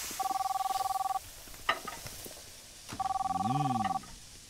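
Two separate bursts of trilling electronic phone ringing come from a cooking video game about spicy chicken legs, with brief clattering and a voice between and under the second ring.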